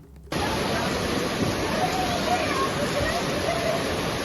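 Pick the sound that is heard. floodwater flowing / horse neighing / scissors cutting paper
floodwater flowing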